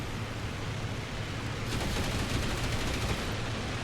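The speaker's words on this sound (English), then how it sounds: "the new cannons sound amazing" Aircraft cannons firing in the IL-2 Battle of Moscow flight game, a rapid burst of heavy shots starting midway over a steady engine drone, loud and rattling with no talk.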